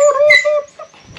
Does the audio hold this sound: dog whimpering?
yes